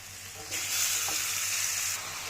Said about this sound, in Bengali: চিকেনগুলো এখানে ফ্রাই হতে থাক